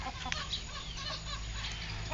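Ordinary farmyard chickens cluck softly and intermittently at a distance, faint over a low, steady background hum, with no talking.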